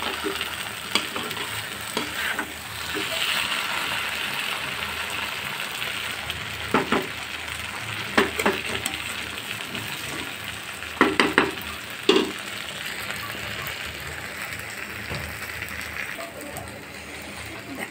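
Kochur loti (taro stolon) cooks with coconut paste in a pan over medium heat, a continuous close sizzle broken by repeated sharp scrapes and clinks of a spatula stirring.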